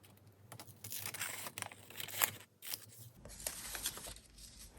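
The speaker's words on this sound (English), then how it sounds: "I'm going to take a coffee stained doily and I'm going to cut it in half" Scissors snip through a coffee-stained paper doily, cutting it in half with quiet, close, irregular crisp cuts and rustling paper.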